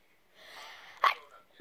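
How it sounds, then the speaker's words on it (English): A single sharp sneeze, short and fairly close, preceded by a soft breathy intake. "had to sneeze, so I pretended that I sneezed"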